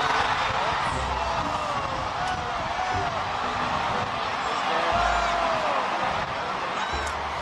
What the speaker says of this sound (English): You can hear the crowd screaming in delight as the float handlers and police tried to get Barney under control